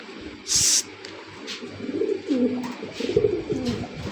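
Pigeons coo at a farm, a run of low throaty rolling calls close by, with a sharp hiss of noise near the start and soft scattered clicks, no voices.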